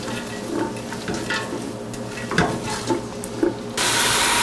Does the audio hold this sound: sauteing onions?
yes